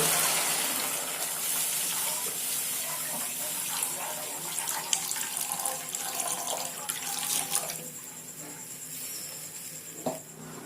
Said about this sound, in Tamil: நம்ம தண்ணி ஊற்றிக்கலாம் தேவையான அளவுக்கு.